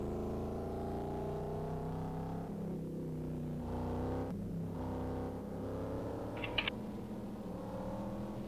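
Race cars in a virtual 24 Hours of Le Mans game roll off behind the pace car, steady layered engine drones with a faint rise and fall and a couple of brief clicks, quiet and without voices.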